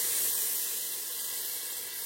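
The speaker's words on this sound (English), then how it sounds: "We're going to go ahead and add in our hot water. Getting a little misty." Hot water poured into a pressure cooker gives a soft, steady steaming hiss that holds evenly for a moment, faint and alone.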